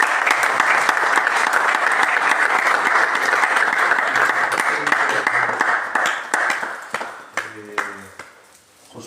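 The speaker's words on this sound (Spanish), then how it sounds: "Damos un aplauso al Señor." Church congregation giving a sustained, dense round of applause, loud and close, thinning into scattered claps near the end as a few tones ring out.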